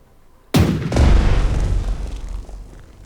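Anti-aircraft guns in the naval strategy game Strategic Mind: The Pacific open fire with a sudden loud blast, then a rolling barrage of booms and rumble that slowly fades.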